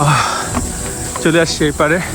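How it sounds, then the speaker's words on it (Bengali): Insects in a hill forest on the South Korean hillside near Paju's Majang Lake suspension bridge give a continuous high, thin chirring behind someone talking up close. "পাহাড়ের জঙ্গল থেকে শুনতে পাচ্ছেন আপনারা পোকা ঝিঝি করছে"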